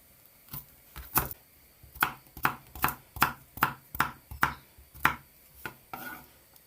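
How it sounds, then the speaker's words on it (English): Carrot being cut with a knife in a home kitchen: about a dozen crisp, evenly spaced chops land on a board close by, steady in rhythm, with no talking. "cutting up my carrot,"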